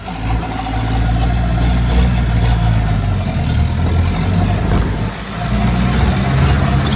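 An off-road vehicle tears across sand dunes in the Philippines, its engine roaring loud and steady from close by, dipping briefly before surging again.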